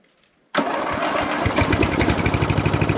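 A small ride-on field mower engine on full choke catches abruptly after a moment of quiet, then runs loud and close with a steady, pulsing rattle.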